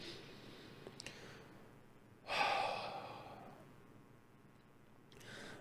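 A single deep, slow breath during a meditation, a long airy exhale that swells and then fades, close and soft, with a faint breathy sound at the end and no talking.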